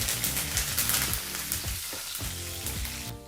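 Chillies and curry leaves sizzle in hot oil for brinjal rice, a loud, close, continuous frying crackle with a faint tonal hum underneath and no talk.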